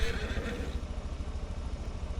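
Horses neighing in a farm-restoration video game: a whinny stands out in the first moment, then fades into a steady low rumble and soft background noise, with no talk.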